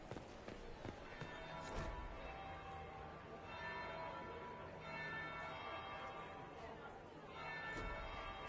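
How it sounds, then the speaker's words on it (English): A church bell rings in the fantasy video game Dragon Age, sustained tolling tones hanging over a busy game soundscape with footsteps and bustle, swelling again near the end. "Third bell."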